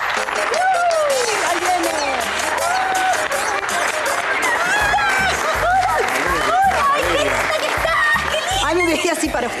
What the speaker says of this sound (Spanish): ¡Fuerte ese aplauso, señores!